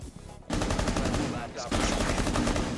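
Rapid automatic gunfire in Rainbow Six Siege, close and loud, comes in two sustained bursts separated by a brief pause.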